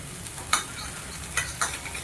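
Food frying in a pan gives a soft, steady sizzle, broken by a few sharp clicks and scrapes of stirring, close by and with no one talking.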